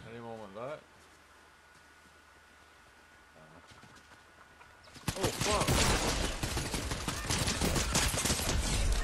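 Blaster or gunfire from a Star Wars game featuring Darth Maul bursts in loudly about halfway through and keeps up as a dense, sustained barrage, following a quiet stretch that opens with a brief voice.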